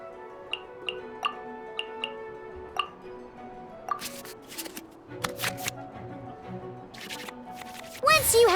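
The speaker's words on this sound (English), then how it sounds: "we can select any number of cards in our hand to shuffle back into the draw pile" Digital card shuffling from the Genshin Impact card game: a series of crisp, quick clicks and flicks as cards return to the draw pile, spaced irregularly and ending in a brighter flurry.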